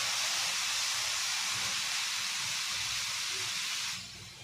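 A dhapate flatbread lands on a hot tava griddle and gives off a loud, steady broadband sizzle that holds for several seconds, then eases off toward the end.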